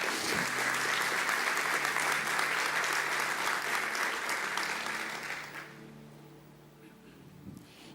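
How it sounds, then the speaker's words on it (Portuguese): A church congregation at a Sunday morning service breaks into loud, full applause that holds steady for about five seconds, then quickly dies away, leaving a quiet room with faint murmurs. "Dê o melhor aplauso que você pode dar ao Senhor."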